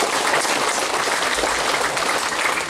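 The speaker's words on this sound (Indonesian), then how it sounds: "Kita kasih tepuk tangan dulu ke Kadis itu" Audience applause for a regional education official at a governor's address to high school and vocational school staff in Malaka, a steady wash of many hands clapping close by without pause.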